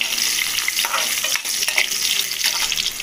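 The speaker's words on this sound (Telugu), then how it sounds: "ఇదిగా అండి ఈ ఉల్లిపాయల్ని మనం వేగనిద్దాము" Sliced onions fry with cumin in a pan for a drumstick curry, giving a steady, close, dense sizzle with faint stirring scrapes throughout, and no voices.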